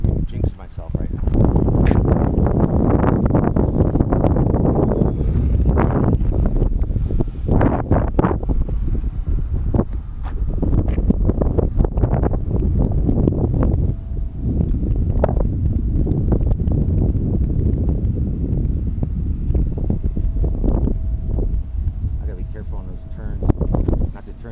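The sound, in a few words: wind blowing outdoors in park during RC plane flight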